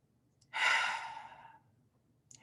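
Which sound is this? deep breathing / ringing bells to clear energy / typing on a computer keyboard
deep breathing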